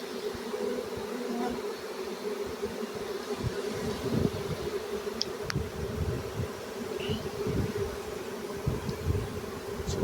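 A honey bee swarm fanning and crawling, giving a dense, continuous buzzing drone close by with faint low thumps and rustles, steady throughout with no voices.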